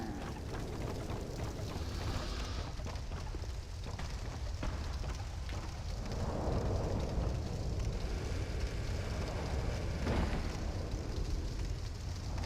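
Dark Souls II flamethrower enemy spewing fire, a steady roaring, crackling rush that holds throughout, with flare-ups around the middle and near the end.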